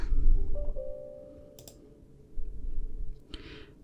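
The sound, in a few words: computer mouse clicking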